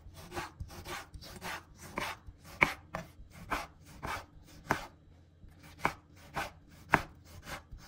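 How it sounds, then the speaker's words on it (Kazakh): A knife cuts a tomato into cubes on a board: a steady run of quiet, close chops and thuds at a quick, uneven rhythm, with no talk. "бір қызанағымызды алып, мұны да төртбұрышты етіп турап алатын боламыз"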